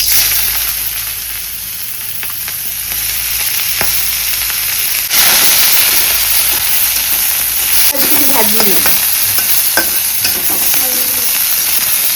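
Onions frying in hot oil in a pan, with a loud steady sizzle and hiss that swells midway, with some stirring scrapes later on.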